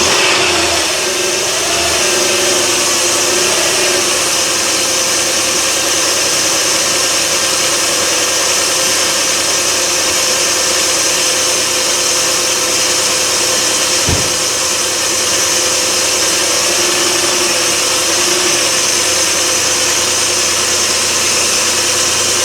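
A Dodge car engine runs at a steady idle, a constant mid-pitched rumble with a faint whine, close by and uninterrupted, with no one speaking. The engine has a vacuum leak.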